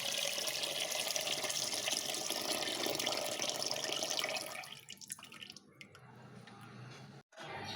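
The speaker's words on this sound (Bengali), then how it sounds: "এই 3 কেজি চাউল ভিজাই দিলাম।" Water pours and splashes as 3 kg of rice is soaked in a pot, a steady loud running-water wash for about four seconds, then quieter drips and trickles with a brief silence near the end.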